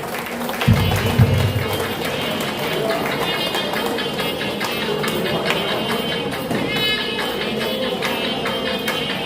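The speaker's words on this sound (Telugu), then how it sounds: "గట్టిగా క్లాస్ కొట్టుకుంటాం" An audience at a Patriji birth-anniversary celebration clapping hard, a dense, fast patter of many hands held steady throughout, with voices mixed in and a low thump near the start.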